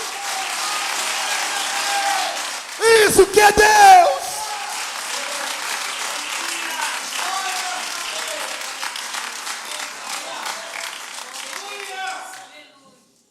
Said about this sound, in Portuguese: Dê uma salva de palmas para Jesus, é para Jesus.